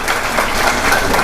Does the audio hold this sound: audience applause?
yes